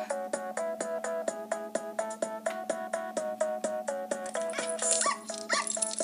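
Cartoon dog sounds in an animated Color Alive colouring app scene, a rapid run of evenly spaced bright yips and barks over a steady tune, loud and continuous for several seconds with no talk.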